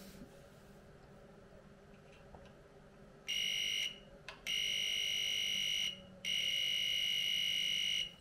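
A high-pitched electronic beep from an EMOS VT-120 non-contact voltage tester sounds in three long steady tones separated by short gaps, fairly loud over a quiet room hum.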